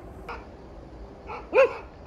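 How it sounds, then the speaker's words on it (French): Dogs outdoors at sunrise give a few short barks and yips spread over two seconds at moderate distance, the last one the loudest. "Et ils sont là, les chiens."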